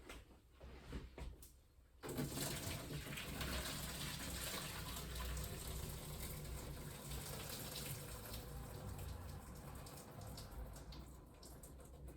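Spaghetti cooking water pours from a pot through a clip-on colander into a sink: after a quiet start with a few clinks, a loud, steady gush runs for about ten seconds.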